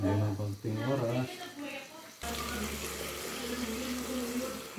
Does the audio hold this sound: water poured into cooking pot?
yes